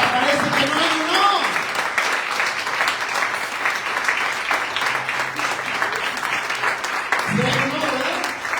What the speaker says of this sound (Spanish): Dele un fuerte aplauso al Rey. Pero fuerte, iglesia